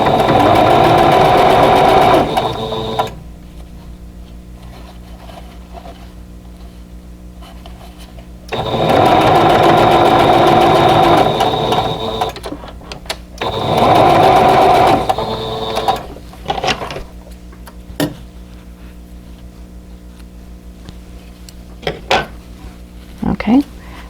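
A sewing machine stitches rows of a quilt block together in several bursts of fast, steady whirring. Quieter handling noises fill the pauses between runs.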